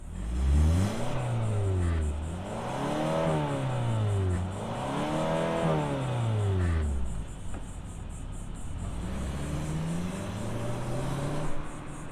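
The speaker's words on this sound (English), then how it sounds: "let's fire it up and see this Kia roll" A 2025 Kia K5 GT-Line midsize sport sedan starts and pulls away, its engine revving up and down in repeated sweeping swells as it accelerates and shifts, then easing to a lower steady drone, heard close and fairly loud without talk.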